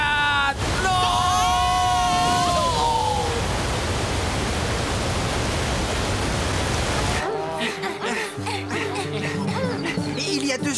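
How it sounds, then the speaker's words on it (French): A cartoon waterfall in an animated Blinky Bill episode roars as a steady, loud broadband rush for several seconds, preceded by squeaky, whimpering character voices and cut off abruptly by a switch to music and other sounds. "Ah, Une cascade."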